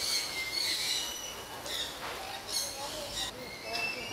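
Several harsh, squawking bird calls repeat irregularly over a steady background, with faint voices mixed in.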